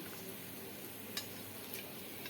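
Chhana jalebi, soft paneer-style sweets, frying in hot oil, a faint steady sizzle and bubbling with a few small ticks and pops, quiet and even throughout.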